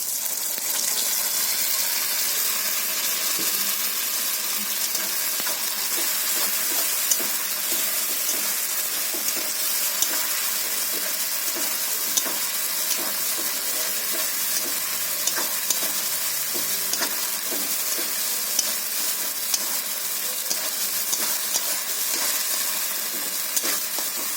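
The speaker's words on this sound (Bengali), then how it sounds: "তো দিয়ে আমি বন্ধুরা পেস্ট করে রেখেছি। তো এটা আমি কড়াইতে তেলের মধ্যে দিয়ে দিচ্ছি।" Spice paste of ginger, garlic, cumin and coriander frying in oil in a wok, a loud, steady, crackling sizzle that holds without pause throughout.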